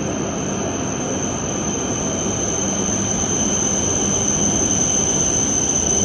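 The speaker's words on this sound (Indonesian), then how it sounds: "Nah, ini kereta api cepat dah sampai." A Shinkansen high-speed train arrives at a station in Japan, a loud, steady rushing roar with a sustained high whine throughout, and no one speaks.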